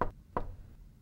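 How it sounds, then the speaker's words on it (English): Two soft knocks rap on a front door, close and quiet, spaced apart and followed by stillness. "Mr. Cream heard a quiet little knock at the front door."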